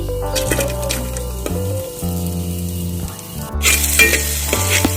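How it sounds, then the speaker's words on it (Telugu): Onions and chillies frying in hot oil in a pot, sizzling steadily, with background music playing throughout and a brief louder burst of sizzle near the end. "ఒక గిన్నెలో ఆయిల్ వేసుకుని అది హీట్ అయినాక ఆనియన్స్ చిల్లీ అలాగే యాడ్ చేసుకుందాం"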